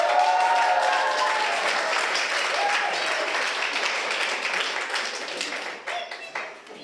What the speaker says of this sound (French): Merci beaucoup, on peut à nouveau l'applaudir.